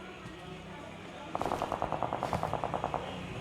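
Rapid automatic gunfire from the battle royale game PUBG, a fast burst of about a dozen evenly spaced shots fired mid-match and standing out above a low background hum.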